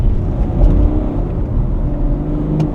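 A BMW X4 30d diesel SUV accelerating hard in sport mode, its engine a steady loud rumble and whir rising under load from inside the cabin, with no talk.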